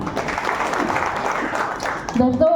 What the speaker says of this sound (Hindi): उनके लिए जोरदार तालियां दोस्तों